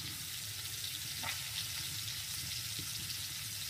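Fish, likely boal catfish, frying in a pan gives a steady, dense sizzle that runs unbroken and fairly close throughout, with no talking.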